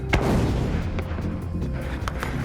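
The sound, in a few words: gunfire during a battle between Taliban and Marines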